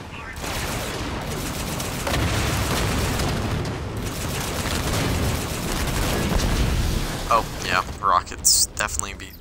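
Rocket explosions in the Halo game Warzone Turbo, a sustained roaring barrage of blasts and rumble that breaks into sharper bursts near the end, loud and dense, with a voice talking over it.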